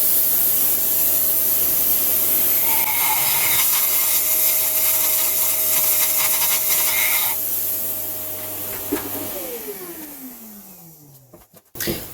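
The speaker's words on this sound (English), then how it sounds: "This is the tool that I'm using to just clean up the injector holes" A 17x19 mm cleaning tool whirs steadily inside the injector holes of a BMW 530d N57 diesel engine with a grinding, scraping hiss. The motor then winds down to a stop and falls quiet.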